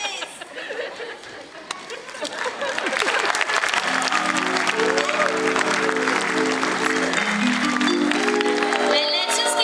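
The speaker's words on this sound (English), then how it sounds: "let's just keep clapping for Ka as she scares our Mowgli away." Audience clapping during a stage performance, dense continuous applause with crowd chatter and light laughter, while sustained musical tones enter partway through and continue beneath it.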